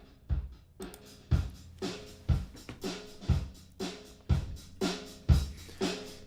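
Drum-like loop played through an audio plugin that emulates a vintage sampler with frequency crushing. Punchy, gritty hits come in a steady rhythm, each with a booming low thump and a crunchy, bright top, and there is no talk over it.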